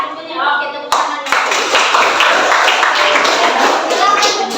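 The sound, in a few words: classroom applause, children clapping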